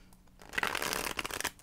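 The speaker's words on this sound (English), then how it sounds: "Gemini reading, one more shuffle." Tarot cards are shuffled once, close up: a quick riffling flutter of card edges lasting about a second, with no talking.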